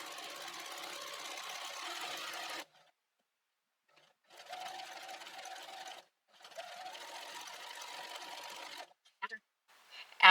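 Close sewing machine running in three bursts separated by short pauses, stitching a fabric rope bowl, steady mechanical whirring with brief clicks near the end.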